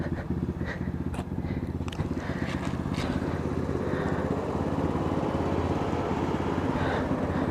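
A pit bike engine drones steadily at high revs while racing down a tunnel, loud and close throughout, with a few faint scrapes and knocks over the first few seconds.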